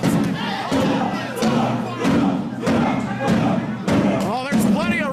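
Crowd at a lucha libre wrestling event, loud rhythmic chanting and cheering in repeated bursts with thuds mixed in, carrying on under and between bouts of commentary.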